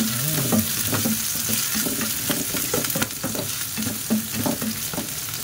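Onion and garlic fry in a pan, a steady loud sizzle running throughout with repeated scraping stir strokes, no voices.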